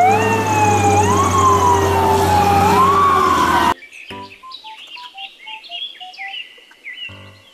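A loud toy fire truck siren rises and falls for a few seconds, then cuts off abruptly and is replaced by quieter electronic chirps and beeps.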